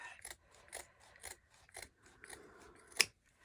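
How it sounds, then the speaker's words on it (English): Scissors snip through denim in a steady series of crunchy cuts, about six or seven strokes, close and fairly quiet; the scissors are dull. "one of these days I will actually sharpen my scissors"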